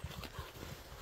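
A horse's hooves clip-clop in a steady rhythm of soft, regular thuds, faint and a little distant, with no talking over them.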